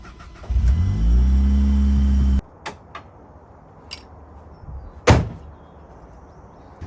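A Ford Focus engine cranks and fires into a steady idle for a couple of seconds, then cuts off, followed by a few sharp clicks and a louder thud like a car door or hood.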